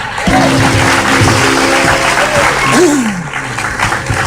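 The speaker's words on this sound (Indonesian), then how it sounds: "Tepuk tangan." Studio audience applauding on an Indonesian talk show, a loud dense wash of clapping with a tonal musical sting and sweeping effect layered over it.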